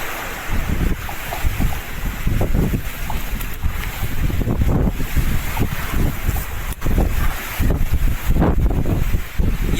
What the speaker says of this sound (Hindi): ये देखना कितनी तेज़ हवा चली हुई।